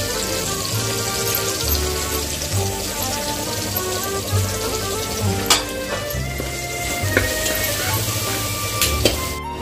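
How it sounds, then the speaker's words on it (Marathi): Curry leaves, turmeric, garlic and coconut crackle in hot oil for a tempering, a steady close sizzle with occasional sharper pops and a low hum of background noise beneath, no talking. "कढीपत्ता टाकला, हळद टाकली, लसूण खोबरं फोडणीसाठी टाकले."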